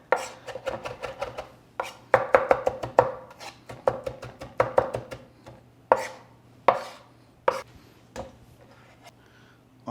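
A knife chops meat on a board, mincing it into a fine paste for Turkish Adana kebab, with rapid, uneven clusters of sharp taps at close range and no voices.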